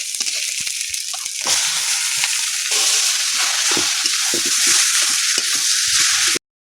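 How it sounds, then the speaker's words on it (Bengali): Banana flower and potato hit a hot frying pan with ginger, garlic and green chilli paste, giving a loud, continuous sizzle with stirring and scraping throughout before it cuts off abruptly. "এবার আমি দিয়ে দেবো এই মোচা আর আলুটা"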